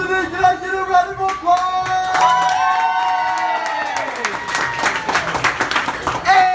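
Applause and cheering from a crowd of guests at a 30th birthday rodeo, clapping building under sustained shouted voices and whoops, fairly close and loud.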